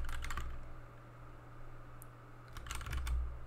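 Keystrokes on a computer keyboard as a terminal command is typed on an Ubuntu Linux machine, a quick burst of clicks, a pause, then another rapid flurry, close and moderately quiet over a low steady hum.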